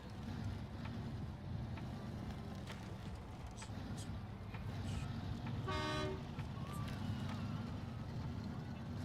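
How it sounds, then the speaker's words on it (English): Truck horn in SnowRunner sounds once as a short, clear honk lasting under a second, rising over a steady engine drone, with faint talk around it. "Honk to get the fence down"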